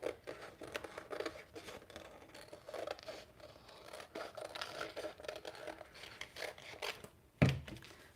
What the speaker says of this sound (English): Let's cut out that image.